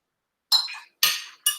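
Glass clinks three times, close and crisp, as a few drops of absinthe are put into a cocktail glass for an absinthe wash, each bright tap ringing briefly before fading into silence.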